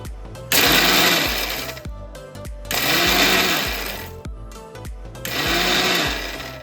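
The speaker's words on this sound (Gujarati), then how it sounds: "હવે છે ને મિક્સરમાં આપણે એક જ આટો ફેરવવાનો છે બહુ જાજુ નથી ક્રશ કરવાનું" A mixer grinder runs in three loud bursts, coarsely crushing fried boondi for motichoor laddoos, each whirring run starting abruptly and stopping with short pauses between them, with no talking.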